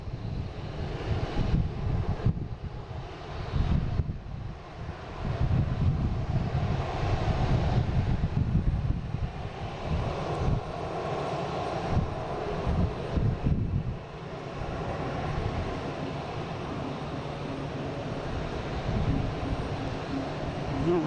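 A Delta Airbus A350-900 takes off, its engines producing a broad, steady low roar mixed with wind buffeting on the microphone, sustained and fairly distant throughout with no break.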